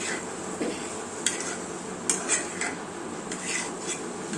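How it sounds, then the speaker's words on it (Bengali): Spoon scraping and clinking in a pan while mashed potato masala filling is mixed with chili, garlic and herbs, light irregular taps over a steady low sizzle, close up with no voices. "ভালো মতো সমস্ত উপকরণ মিশিয়ে নিতে হবে।"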